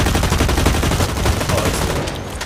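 Rapid automatic gunfire in the first-person shooter Blacklight: Retribution rattles loud and dense, close and sustained for a couple of seconds with only brief pauses.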